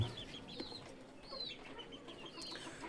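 Soft silkie chicken clucking and short chirpy calls, fairly faint, amid light background noise.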